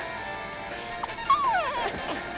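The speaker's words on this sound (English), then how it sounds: "Oh, gonna make me kill a dog?" A dog whimpers in a Final Fantasy game, a few high whiny cries and wavering yelps rising and falling over about two seconds, close and loud with no voices.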